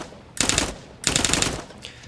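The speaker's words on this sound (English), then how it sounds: "Let's try to figure out how fast this gun fires." Simulated gunfire from a VR shooter played through a gunstock accessory: two loud, dense bursts of rapid automatic fire, each lasting about a third of a second, separated by a short pause, then a fainter trailing shot.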